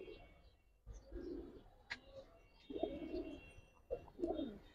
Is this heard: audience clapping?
no